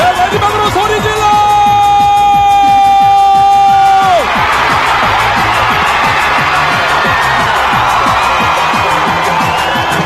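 At a nursing students' rally, a long sustained tonal shout or horn-like cry rings over the crowd before a loud, dense roar of shouting and cheering takes over for the rest of the clip.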